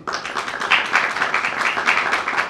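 An audience at an ecumenical church unity week gathering claps to welcome a visiting bishop, a loud, close, rhythmic patter of many hands continuing steadily throughout.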